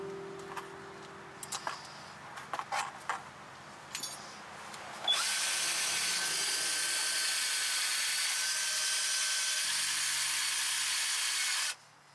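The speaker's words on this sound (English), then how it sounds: "clean the surface with a wire brush" Wire brush cleaning a front brake caliper bracket on a 2011-2014 Dodge Charger: a few scattered knocks and taps, then a loud, continuous harsh scrubbing whir lasting about seven seconds before stopping abruptly.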